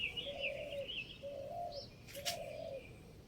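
Birds call outdoors in a rose garden around six in the morning: low repeated cooing phrases from a dove alongside higher chirps, with a brief flutter, fairly close and unaccompanied by talk.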